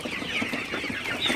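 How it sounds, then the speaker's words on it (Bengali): Sonali super hybrid chickens cluck steadily as they feed on broken corn at night, a dense overlapping chorus of close, continuous clucking with no voices. "দেখতে পাচ্ছেন আমার সোনালি সুপার হাইব্রিড মুরগিগুলো আসলে পাগলের মতো খাইতেছে বলা চলে।"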